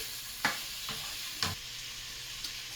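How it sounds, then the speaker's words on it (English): Shrimp sautéing in a pan for a shrimp salad, a steady close sizzle broken by three sharp stirring clicks spaced about a second apart. "So I'm going to just quickly saute them, make sure they're cooked"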